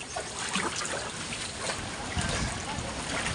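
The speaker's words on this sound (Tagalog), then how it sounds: "Puro na tubig papunta ng dagat." Floodwater from a December shear line storm rushes along a road toward the sea, making a steady, broad, close watery hiss with faint splashing throughout.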